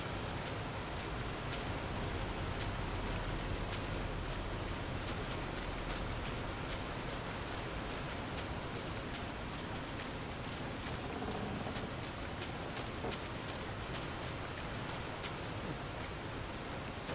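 Steady rain falls in Fallout: New Vegas, a soft, even hiss of drops on surfaces that holds at a constant low level throughout, with no voices.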